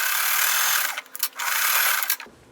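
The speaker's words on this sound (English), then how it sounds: "And now we're going to sew those together." Sewing machine stitching quilt block pieces together: a loud, steady, close mechanical whir that stops briefly twice, resumes, then cuts off at the end.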